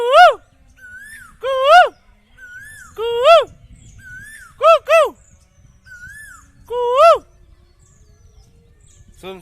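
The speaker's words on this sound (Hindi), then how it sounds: "ये मोर पाछू जो कोयल है ओकर कुहू कुहू जो आवाज़ है बड़ मीठ और गुरतुर लागत है" An Asian koel repeats its rising kuhu kuhu call, loud and clear, in evenly spaced pairs and single notes, with softer answering calls between and a faint low murmur of background noise.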